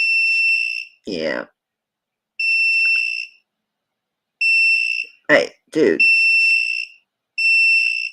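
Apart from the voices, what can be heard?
jewelry stone tester beeping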